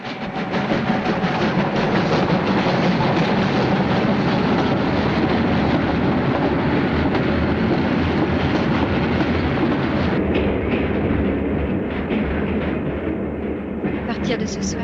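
Train running on rails, a steady loud rumble with rattling across the whole span, continuous and close, as if heard from inside a moving railway carriage; voices or music sit faintly beneath it.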